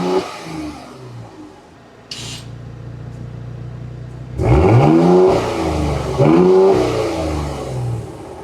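Base V6 car with an aftermarket exhaust pipe, idling at a low rumble before two strong revs swell and fall back, loud and close with a raspy exhaust note, no voices.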